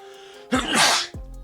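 One sharp, close sneeze bursts out loudly for about half a second, between quiet stretches of background sound.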